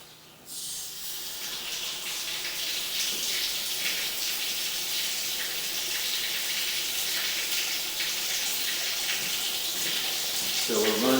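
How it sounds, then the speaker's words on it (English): Water runs steadily from a tap into a house drain line, a loud continuous rushing and splashing that starts abruptly and holds level throughout, with no talk over it. "So we're running some water."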